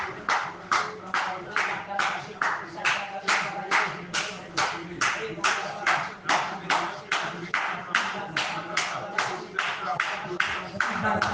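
A church congregation claps in a steady, regular rhythm during a prayer service, about two claps per second, loud and continuous throughout, with voices faintly underneath.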